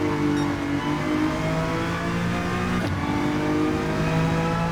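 GT3 race car engine in Gran Turismo 7, a sustained high rev with steady harmonic whine, loud and close, with a brief shift blip midway and no talk.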